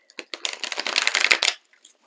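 A deck of tarot cards is shuffled close up in one quick riffle, a dense burst of crisp papery flutter lasting about a second, then a few soft taps.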